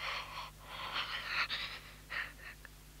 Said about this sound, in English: Mr. Fox could hear the sound of her breathing